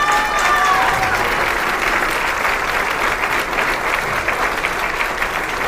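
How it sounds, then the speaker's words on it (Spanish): Applause from a crowd at a Puebla political victory event, loud, sustained clapping that stays even across several seconds, with a few faint tones at the start and no clear speech on top. "por favor, un aplauso."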